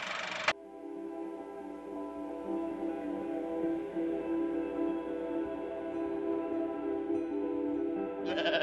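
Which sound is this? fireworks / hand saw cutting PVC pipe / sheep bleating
sheep bleating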